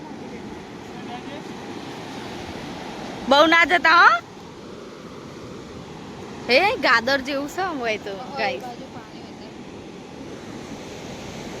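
Sea waves wash onto the shore at Dwarka beach in a continuous low roar, overlaid by wind, while two short bursts of nearby talking break in.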